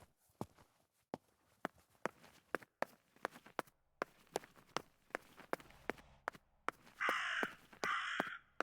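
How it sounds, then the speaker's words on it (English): A raven in the video game Martha is Dead caws sharply and repeatedly in an irregular series, fairly close and clear, while a brief rustling burst comes in near the end. "That raven is making a big fuss."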